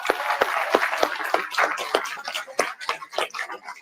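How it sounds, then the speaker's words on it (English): Audience applause at an awards event, a scattered patter of hand claps, moderately close and thinning unevenly toward the end. "Give them a round of applause."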